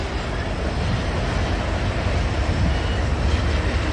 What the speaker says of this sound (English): this ethanol train is heading south